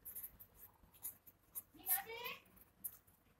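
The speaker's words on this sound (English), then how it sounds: "Let me write." Marker or chalk writing on a board during a physics lecture on half-wave dipole radiation, a few short scratchy strokes near the microphone, with faint room noise and no speech.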